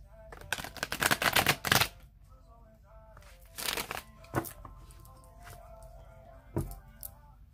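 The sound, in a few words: shuffling tarot cards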